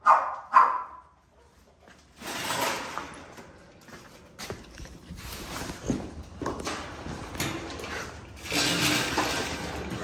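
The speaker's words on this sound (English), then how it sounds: "I hate dogs like that." A dog barks in a few sharp, separate bursts, close and fairly loud at the start, then faint footsteps, rustling and splashing-like noises follow with no barking after.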